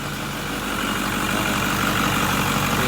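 A Ford 6.4 Powerstroke diesel truck engine idles with a steady, loud, even clatter and rumble, close and unbroken.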